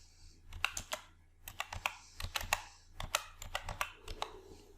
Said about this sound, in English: Type California in Replace box.